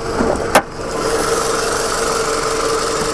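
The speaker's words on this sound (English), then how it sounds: "Let you listen to the engine." A 2002 Toyota Camry LE engine idles steadily with the hood open, an even, low mechanical hum and faint ticking, after one brief click near the start.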